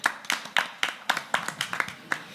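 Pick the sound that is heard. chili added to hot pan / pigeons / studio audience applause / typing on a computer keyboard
studio audience applause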